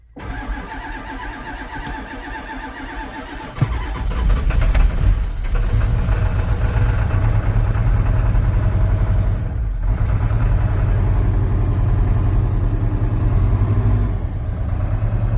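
A Farmall H tractor with a seized valve, on weak batteries and poor connections, cranks briefly and then catches, settling into a loud, steady, rough idle that carries on close by without talk.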